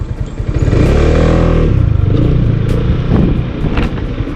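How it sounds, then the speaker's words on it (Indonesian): A Yamaha XMAX scooter engine, bored up to 300cc, revs hard and loud close by, rising then settling into a rough, rattling drone. "Oke, kita cobain motornya. Kita coba tarik dulu."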